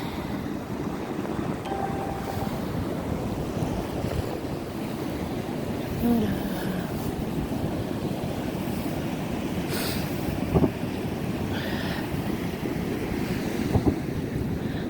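Ocean surf washes steadily onto a beach at rising tide, where waves crisscross near the shore. A continuous rushing roar comes with heavy wind buffeting the microphone and a few faint knocks, and no one speaks.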